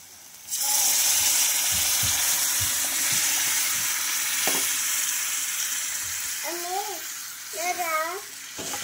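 Blended crab broth pours into hot masala that is frying in oil for a spicy crab curry. A loud sizzle bursts in suddenly and hisses on steadily, with a voice chattering in the background near the end.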